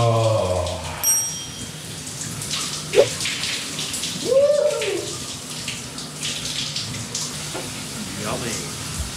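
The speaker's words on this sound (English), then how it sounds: "Shower." Water from a running shower hisses and splashes steadily at home on an early travel morning, close and continuous, with a few brief voice sounds and knocks over it.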